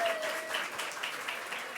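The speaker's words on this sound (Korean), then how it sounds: "우리 소연자매에게도 박수 한번 부탁드립니다." A church congregation applauding during a Sunday service, a brief steady patter of many hands clapping at moderate distance, with a faint voice or tone underneath.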